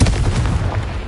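A Confringo spell blast fires in Hogwarts Legacy, a short, loud booming burst that rumbles heavily for about a second with no talk over it.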